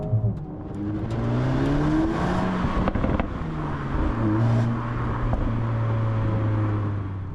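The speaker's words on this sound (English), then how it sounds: "I can kind of coax some really nice bangs out of it" A 2023 Mercedes A35 AMG revving toward the limiter, its engine note climbing and falling with sharp crackling exhaust bangs scattered through, fairly loud with no speech.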